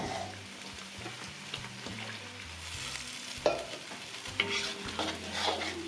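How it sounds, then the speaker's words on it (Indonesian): Peanut sauce (sambal kacang) being stirred in a pan, with a soft repeated scraping rhythm and a faint sizzle close by. "ini diaduk-aduk si sambal kacangnya ini kurang air"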